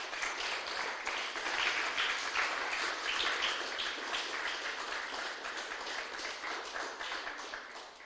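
A church congregation claps for the Lord during a Spanish-language service, a soft, fairly distant wash of many hands applauding steadily throughout, with no voices clearly heard.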